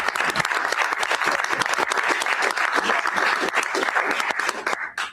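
A crowd claps loudly and steadily for several seconds, a dense burst of applause that fades quickly at the end.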